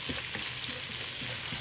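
Bee hoon noodles stir-fried in a pan for express bee hoon goreng, a steady close sizzle with soft scraping stirs every few tenths of a second, no talk.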